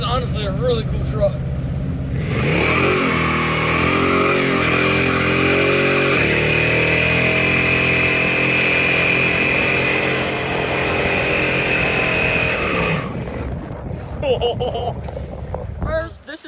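A truck engine revs up and holds a loud, steady drone for about ten seconds close to the microphone, then drops away, with brief voices before and after.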